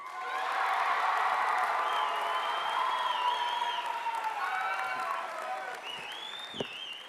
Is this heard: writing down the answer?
no